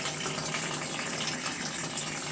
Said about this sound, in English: I have the pressure relief valve just draining the pressure from the tank.